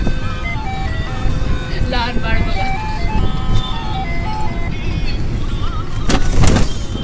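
A children's ride-on toy car plays its electronic jingle, a bright repeating melody heard up close while people talk over it, with some clunks and movement noise.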